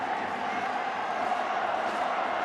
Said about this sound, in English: this crowd has just gotten louder and louder